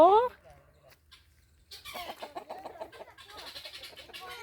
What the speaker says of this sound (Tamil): நம்ம பொப்போன்னு சொன்னோம்னா அப்படியே இங்கே சவுண்டு கொடுப்பாங்க